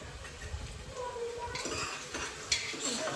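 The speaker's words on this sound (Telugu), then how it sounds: "ఇలా ఆయిల్లో ఆనియన్ మంచిగా ఫ్రై అవ్వాలి" Onions fry in oil in a pan for a mutton boti curry, a low sizzle under stirring and a few clinks of a utensil against the pan, close and moderately quiet.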